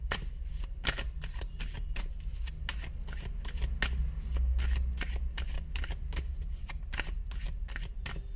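Tarot card decks being shuffled, a run of crisp riffling bursts repeating in quick rhythm, close and fairly quiet with no talk.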